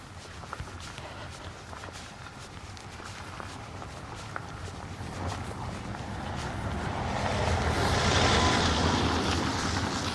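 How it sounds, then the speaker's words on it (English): A car passing on a countryside road in Northamptonshire, heard from the roadside during a spring hike: a broad wash of tyre and engine noise that swells gradually toward the end as it draws near, over outdoor ambience with footstep-like rustle. "So let this car go past."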